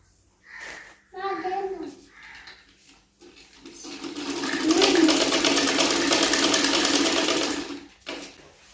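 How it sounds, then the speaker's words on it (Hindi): A domestic sewing machine stitches a pajama, starting after a few seconds of voices with a steady, close whirring hum that runs for several seconds before cutting off. "जी मैं पजामा सिलाई कर रही हूँ"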